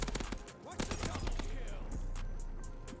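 Rapid bursts of automatic fire from the NZ-41 rifle in Call of Duty Vanguard multiplayer, sharp cracking shots in quick succession, fairly quiet, with a voice talking faintly over the gameplay.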